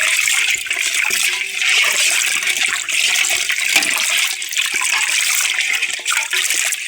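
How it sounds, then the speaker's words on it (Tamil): Water pouring and splashing steadily while freshly cut river fish are rinsed in a village setting, a loud continuous gushing wash with small irregular splashes and no speech. "அதுக்கு தான் நல்லா கழுவணும் தண்ணி விட்டு"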